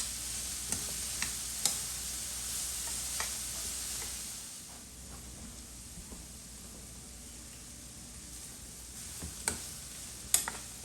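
Bacon and cauliflower cook in a pan with a quiet, even sizzle, broken by scattered small ticks and clicks from the pan, with no talking.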